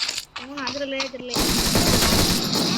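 Gunfire in the mobile battle-royale game Free Fire, a sustained loud burst of automatic shots that fills the second half after a stretch of quieter game sounds with a tonal effect.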